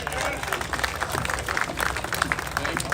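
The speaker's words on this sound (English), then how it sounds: "Can you please help me welcome, with a big round of applause, Jeff Knox." Crowd applause and cheering at an armed Second Amendment rally outside the Arizona State Capitol in Phoenix, a dense, steady wash of clapping held at an even level throughout.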